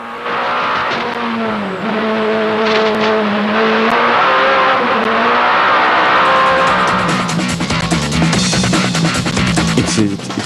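A Peugeot 205 Turbo 16 rally car screams through its revs with rising and falling gear-change sweeps, loud and close, with skidding and roaring passes building toward the end.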